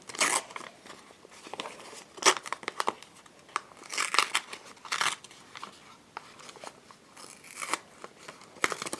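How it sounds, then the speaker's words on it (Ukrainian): Paper crinkling and tearing in irregular bursts, close up, with sharp rustles and rips as a packet is opened; no talking. "Розпаковуємо наш пакетик."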